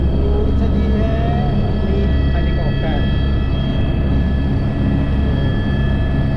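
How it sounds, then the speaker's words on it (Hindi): A helicopter on the Char Dham pilgrimage route to Yamunotri runs its engine with a loud, steady turbine whine and heavy rotor rumble, constant and close throughout. "हेलीकॉप्टर स्टार्ट हुआ।"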